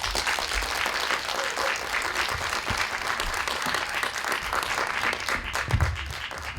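An audience at a farmers' forum session gives a farmer sustained applause after her talk. Many hands clap continuously and fairly close for several seconds, with a few louder claps near the end.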